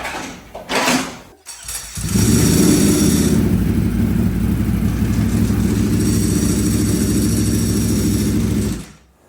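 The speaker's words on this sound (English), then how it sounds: "So we got the Superleggera on the dyno." A Ducati V4 Superleggera motorcycle on a dyno cranks and fires after a couple of short blips, then settles into a loud, steady running drone for several seconds before cutting off.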